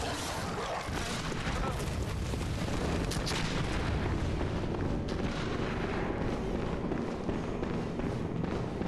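Enemy gunfire at the player in Bloodborne, heavy booming shots and blasts over a dense, loud wash of game noise, with a voice talking over it.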